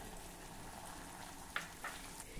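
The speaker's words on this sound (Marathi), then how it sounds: "ही भेंडी आता आपल्याला मस्त तळून घ्यायची आहे" Okra frying in hot oil in a kadhai: a quiet, even, hissing sizzle throughout, with a couple of faint crackles near the end and no speech.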